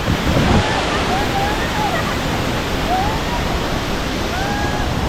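The Pha Charoen waterfall roars as a steady, loud rush of falling water that fills the whole scene, with faint bird chirps above it.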